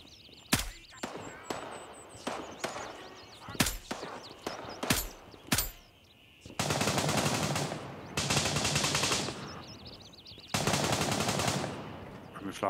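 Rapid bursts of automatic gunfire alternate with single sharp shots, loud and close, with long sustained volleys in the second half, in the video game Gray Zone Warfare.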